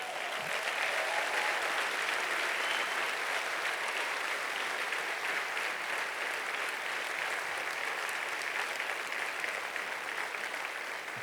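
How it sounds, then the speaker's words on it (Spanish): A church congregation applauding together, a steady, sustained wash of clapping hands that fills the room at even loudness throughout, with no voices standing out. "Si usted lo cree, denle un aplauso al Señor."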